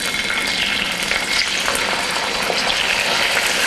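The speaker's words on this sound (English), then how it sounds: "I'm going to get my hands clean while that's sizzling" Bite-sized chicken pieces sizzle and crackle in hot oil, a steady, dense frying hiss held at close range with no talking over it.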